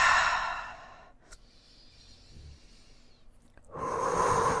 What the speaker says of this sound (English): Let's go 2 more deep breaths